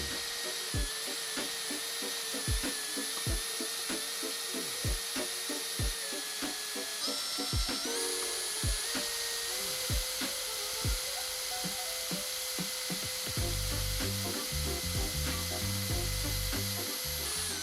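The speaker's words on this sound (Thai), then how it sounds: "ซึ่งการเจาะด้วยดอกฟอสเนอร์ จะเป็นไปด้วยความเรื่อยๆ ช้าๆ" A Forstner bit bores slowly into wood, driven by a battery drill: a steady motor whine with rhythmic ticking cuts, shifting near the end to a rougher, choppier grinding.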